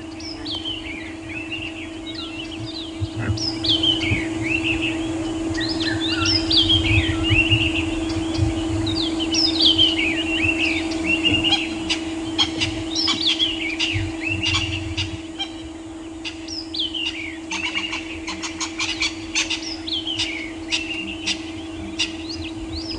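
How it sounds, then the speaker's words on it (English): Many birds call and whistle at once in a lively dawn chorus on safari, including crested francolins, scrub robins, drongos and a red-chested cuckoo, with varied repeated phrases over a steady low mechanical hum. "Crested franklins, scrub robins, drongos, a red-chested cuckoo all calling and greeting the new morning."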